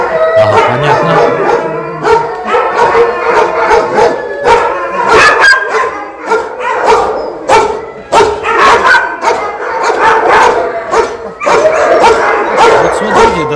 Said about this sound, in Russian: Вот смотрите, достаточно большая, крупная собака.